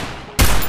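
Gunfire in the video game Free Fire, a sudden loud burst of rapid shots cutting in after a quieter stretch.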